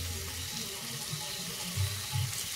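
A small splash of water pours into a pan of cooking masala spiced with salt, turmeric, coriander and cumin, a soft, brief trickle with faint sizzling, close and quiet, no talk.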